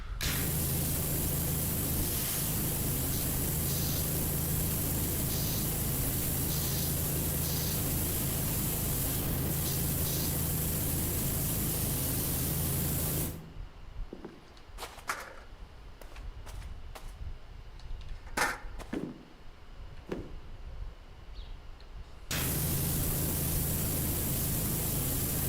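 A pressure washer sprays in PowerWash Simulator, giving a loud, steady hiss that suddenly stops for several seconds of quieter scattered sounds, then starts up again at full strength.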